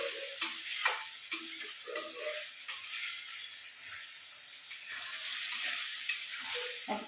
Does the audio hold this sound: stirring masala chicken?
yes